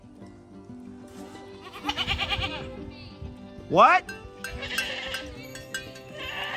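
Goats bleat near a person in an outdoor farm setting, with one loud wavering call standing out among shorter cries, mixed with chatter and background noise.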